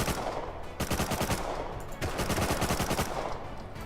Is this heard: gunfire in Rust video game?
yes